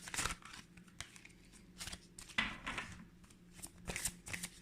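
A deck of oracle cards is shuffled in close, soft riffling and papery rustles, quiet bursts with brief pauses between them, with no talking.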